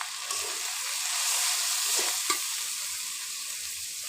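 Fish fries in a pan with turmeric, salt and chili, and onion and garlic in the mix, making a loud, continuous close-up hiss with a few soft stirring bumps.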